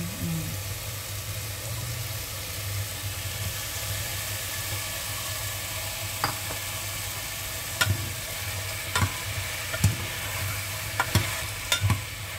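Rice porridge (lugaw) is stirred in a pot over a steady bubbling simmer, with a low background hum and occasional sharp clinks of a spoon against the pot toward the end, close and unaccompanied by talk.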